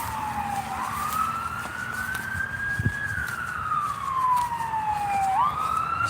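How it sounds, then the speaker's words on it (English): A fire engine siren wails near a fire station, its sustained tone sweeping slowly up and down for the whole stretch, moderately distant over a steady bed of street traffic noise. "we're right by a fire station, so you'll hear the fire engines pretty frequently"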